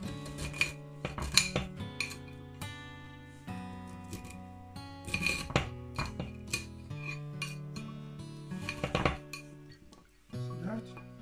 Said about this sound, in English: The carrot, I'm going to chop it off.